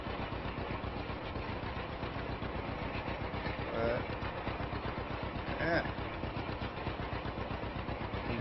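John Deere A tractor engine idling in Farming Simulator 25, a steady low putter with an even pulsing rhythm running throughout under a voice.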